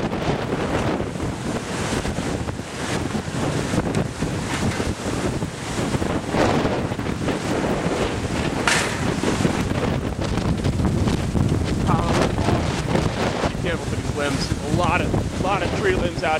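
Hurricane Irene's gale roars along the shoreline at Colleran Park in Massapequa, New York: loud, steady wind buffeting the microphone over crashing surf and thrashing trees, with no break for the whole stretch.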